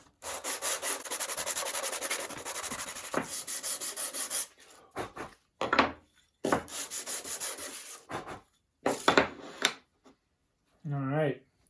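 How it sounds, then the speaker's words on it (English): Wooden spintop segments are rubbed back and forth on sandpaper in repeated strokes of several seconds, a harsh, close scratching that stops and starts, with someone briefly talking at the end. "now I can take them and sand them a little bit to make that mate nice and straight"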